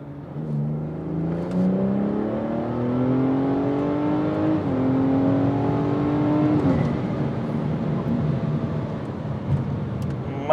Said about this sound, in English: we're gonna do a third gear pull